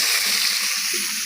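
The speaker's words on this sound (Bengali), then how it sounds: "ডিম আর আলু ভাজা ভাজা হয়ে গেছে," Eggs and potatoes frying in a pan give a steady, close sizzle with a bright hissing texture that holds level throughout, with faint low stirring movements underneath.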